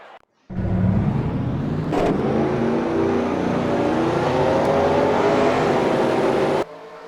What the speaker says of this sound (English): We'll let the engines start here in about 5 seconds.